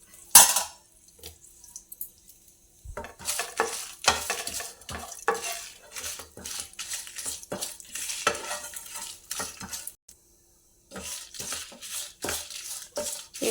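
Broken dried red chilies frying in a pan sizzle as a utensil stirs and scrapes them in short, uneven bursts, close by with brief pauses and no talking.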